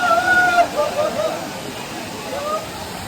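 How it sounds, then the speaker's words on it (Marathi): Rushing water from a waterfall near Gokarna makes a steady broadband roar throughout, with people talking over it near the start. "आलो आपण आता वॉटरफॉलला. बघू शकतो वॉटरफॉल."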